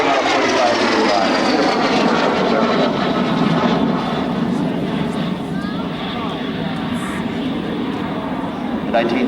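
An L-39 jet roars past on a low-altitude bomb run at an airshow, a loud sustained engine rush with a slowly falling whine, while a voice narrates over it.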